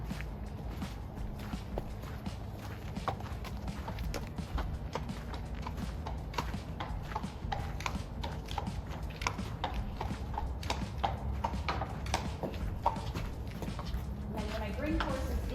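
Horses walking, hooves clip-clopping in a steady uneven rhythm at moderate distance, with faint talk in the background.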